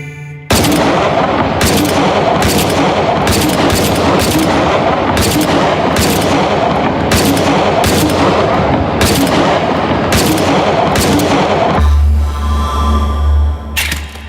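Repeated loud gunfire in the VR shooting game Hot Dogs, Horseshoes, and Hand Grenades during a warm-up wave: irregular single shots over a constant rumbling background, then a low mechanical hum near the end with one more shot, and no talking.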